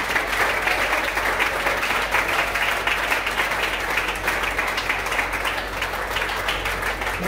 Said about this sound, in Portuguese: Uma salva de palmas, sim, de Jesus.